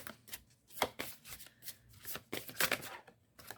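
Oracle cards from a zodiac-themed deck being shuffled by hand, a quick run of crisp riffling flutters and soft slaps, close and fairly quiet, with no talking.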